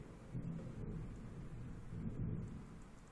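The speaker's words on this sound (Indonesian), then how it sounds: "Ini ada suara gemuruh geledek." Low, continuous rumbling thunder rolls through a stormy outdoor setting, swelling slightly in two broad waves with a faint hiss of rain behind it and no voices.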